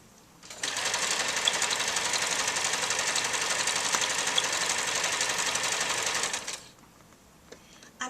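Sewing machine runs in one steady, continuous burst of fast stitching, close and loud, for about six seconds before stopping, while stitching a lingerie hem close to a picot scalloped edge.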